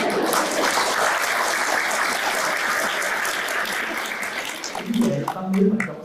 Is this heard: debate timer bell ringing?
no